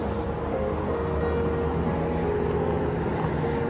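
A helicopter passes over a house, its steady drone fairly distant and constant throughout, with no voices.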